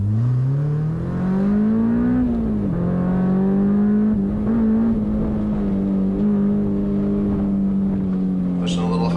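A Honda S2000 CR is driven hard through an autocross slalom, its engine holding a steady high drone that rises and dips with throttle changes, recorded close up from inside the car.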